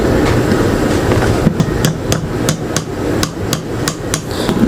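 A pin is hammered back into an electric fan during a repair: about ten sharp, evenly spaced metal taps ring out close by over a steady background hum.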